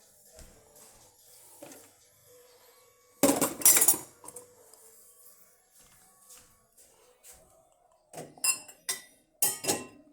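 Glass cups, dishes and cutlery clink and rattle as a dishwasher is unloaded, with one long burst of clattering, several sharp close clinks near the end, and quiet shuffling between them.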